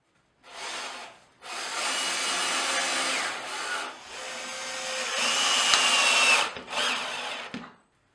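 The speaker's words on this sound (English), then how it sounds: "then securely screw it to the stud" A power drill drives screws to fix a wall batten to a stud, its motor whirring in several close, loud bursts with short pauses between them.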